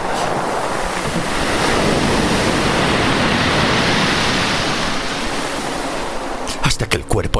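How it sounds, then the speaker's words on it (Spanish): Ocean waves break on a beach in a loud, continuous wash of surf that swells and recedes steadily, with wind noise and a few sharp crackling bursts near the end. "Las olas me escupían hacia la playa."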